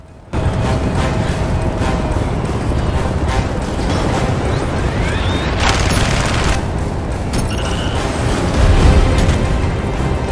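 During a Bionic Commando boss battle, loud continuous gunfire and booming explosions fill the whole stretch, dense and relentless with heavy low rumbles.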